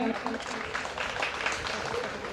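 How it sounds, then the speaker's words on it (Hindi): An audience at a degree distribution ceremony claps to welcome a graduate, a soft, continuous patter of many hands, somewhat distant and even from start to finish. "इनके लिए जोरदार तालियों के साथ में इनका अभिनंदन कीजिए"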